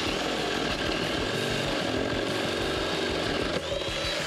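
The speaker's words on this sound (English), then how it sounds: "it was time to drill the holes for the buttons and the joystick" A power drill boring holes for buttons and a joystick in a homemade fight stick box, a loud continuous whining motor with grinding bite, running almost without pause and dipping briefly near the end.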